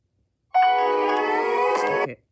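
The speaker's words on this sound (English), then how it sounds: "Also, the notification sound." A Samsung Galaxy A03s notification tone sounds once, a clear electronic chime holding steady for about a second and a half with bright harmonic tones, then cutting off into silence.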